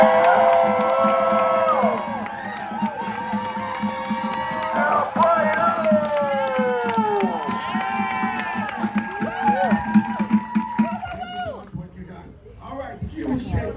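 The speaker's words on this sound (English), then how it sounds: "Let's give them applause." Protesters at a rally against the Drug War outside DEA headquarters cheer, whoop and clap, with high shouts and whistles over applause for the first ten seconds before the noise thins into scattered claps and voices.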